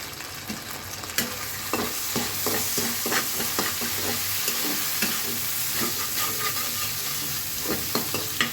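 Egg frying in a pan with tomato sauce added on top, cooking for vegetable noodles; a steady sizzle with repeated stirring scrapes throughout, close and fairly loud, with no talking.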